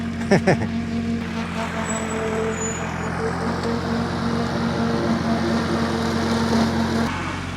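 Tractor pulling a flail mower across a farm field in Portugal, a steady low engine drone with a tonal whine running throughout, a few sharp knocks at the start and a faint high squeal partway through.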